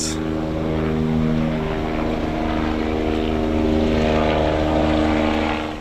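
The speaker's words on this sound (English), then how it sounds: "a distinct whirl of helicopters overhead" Helicopter rotors whirl steadily overhead above an outdoor park gathering for Friday prayers after the Al Noor mosque shooting, a constant loud droning hum with pulsing low tones lasting throughout.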